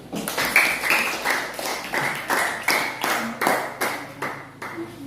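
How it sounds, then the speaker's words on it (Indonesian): A classroom group claps in unison for a group leader, about a dozen sharp rhythmic claps in a steady beat, close and moderately loud, with a few voices faintly underneath. "tepuk tangan untuk ketua kelompok 1"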